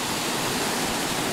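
Waterfall in a green mountain setting, a loud continuous broadband rush of falling water filling the whole moment, close and steady with no voices.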